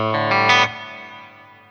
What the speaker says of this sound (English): now let's switch to the clean channel of the Syn 20IR. And let's add a little bit of reverb just for some ambience.